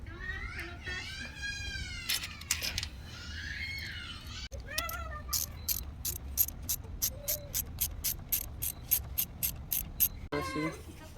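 A ratchet tightens a bolt on a KX450F clutch cover, clicking in a fast, even series of sharp ticks. Earlier in the clip a cat meows, and there are faint background sounds.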